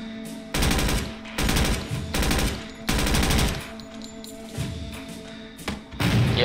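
Automatic gunfire in the tactical video game Door Kickers 2 comes in several loud, rapid bursts of shots. Short pauses separate the bursts, and thuds and quieter background effects fill the gaps.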